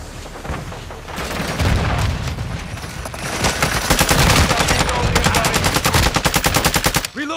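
Heavy gunfire and grenade blasts in Call of Duty: Modern Warfare II, with loud rapid automatic bursts and booming impacts building over several seconds into a dense, continuous barrage.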